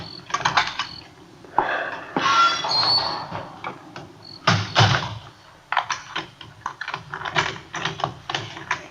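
A front door opening in an old-time radio police drama, with squeaks, clicks and knocking handling sounds spread across the scene, close and moderately loud, no voices.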